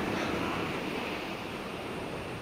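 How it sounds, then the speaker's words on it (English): Steady rushing water and breaking waves in a Sonic sprite animation, a continuous broad roar of surf at even loudness with no voices. "That water rushing."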